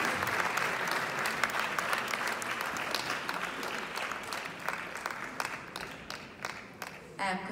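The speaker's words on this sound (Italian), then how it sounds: "facciamogli un altro applauso che ce la possiamo fare, siamo tanti," Audience applause at a film festival award ceremony in Italy, a sustained wash of many hands clapping at moderate distance that thins slightly toward the end, with faint voices mixed in.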